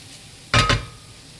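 Zucchini and chicken stirred in a pan, with a single loud scraping clatter and brief sizzle lasting under a second and standing alone against a quiet background.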